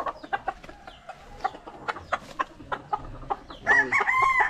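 Chickens cluck in a busy, irregular flurry of short calls, and a rooster lets out a loud, drawn-out crow near the end.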